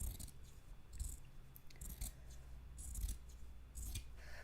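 Scissors snip through Legend of Zelda print fabric while a drawstring backpack is being sewn, a series of quiet crisp cuts in an irregular rhythm, close and faint with no talk.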